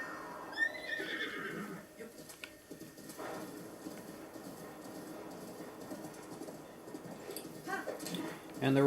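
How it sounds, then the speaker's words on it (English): A horse whinnies near the start in The Legend of Zelda: Breath of the Wild, then hooves and rumbling movement continue over a steady background, with a voice speaking faintly. "So go ahead and grab your horse once again."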